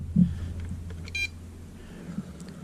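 A battery voltage alarm fitted to an MJX Bugs 2 drone transmitter gives a single short, bright electronic beep close by, amid faint handling noise and low background hum.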